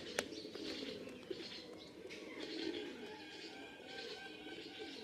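Male pigeons in a Khulna loft coo softly in low, rolling calls, with faint chirps and scattered rustling around them; the birds sound fairly distant and quiet.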